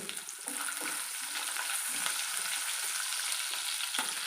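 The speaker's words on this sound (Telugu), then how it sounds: "ఆనియన్ వేసుకుంటున్నాను పచ్చిమిర్చి" Chopped onion and green chilli frying in oil for wheat rava upma, a steady close sizzle with light stirring scrapes and no talk.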